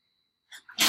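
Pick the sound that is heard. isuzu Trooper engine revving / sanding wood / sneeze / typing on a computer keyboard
sneeze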